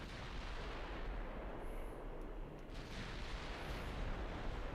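A warship firing armor-piercing shells in the naval game Ultimate Admiral Dreadnoughts, heard as a deep rumbling artillery roar that rolls on continuously, muffled and fairly quiet.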